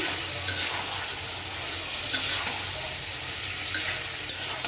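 Jackfruit pieces stir-fried in a cooked spice masala with salt for a spicy jackfruit and potato curry, giving a steady, close sizzle with scattered light stirring clicks throughout and no talking.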